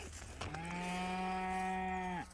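A single cow lowing close by on a Kansas farm after getting out through a gate, one long steady moo lasting nearly two seconds and ending abruptly.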